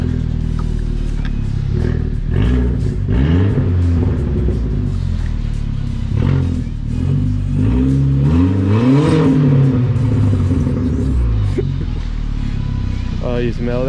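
A straight-piped Volkswagen engine revs loud and close, rising and falling in throaty rasping pulls over a steady rumbling idle, with people talking over it.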